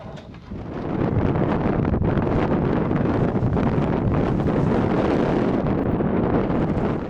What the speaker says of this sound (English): Still quite windy as you can see outside